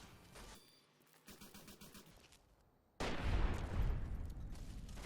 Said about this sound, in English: Eddie firing lasers again.